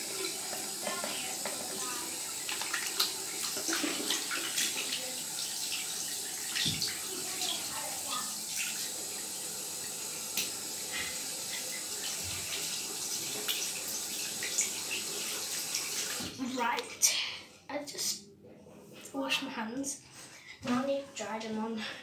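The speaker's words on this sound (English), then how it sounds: "Now I need to wash my hands." Running tap water pours steadily into a sink while hands are washed, a soft continuous hiss that cuts off near the end, followed by quiet movement and brief handling sounds.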